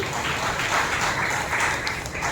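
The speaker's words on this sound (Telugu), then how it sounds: "వారు చప్పట్లు కొట్టి దేవుడి మహిమపరుచు" Church congregation clapping together during a Telugu Sunday worship service, a dense burst of many hands close by that swells and fades over a couple of seconds.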